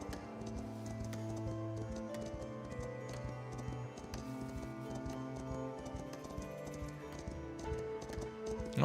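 Horse hooves clip-clop steadily in Foundation, a medieval kingdom-building game, with a light, regular patter of steps running under continuous melodic game music.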